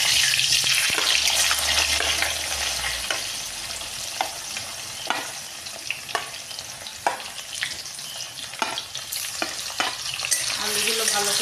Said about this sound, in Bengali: আর এবার আমি আলুগুলো আগে ভেজে নেব।